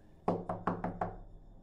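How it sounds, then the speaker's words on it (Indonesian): Five sharp knocks strike a kitchen window in an uneven rhythm, close and distinct, each decaying quickly into a quiet room. "Ketukan tak beraturan terdengar dari jendela dapur mereka"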